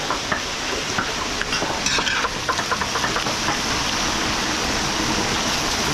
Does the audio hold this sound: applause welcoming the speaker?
no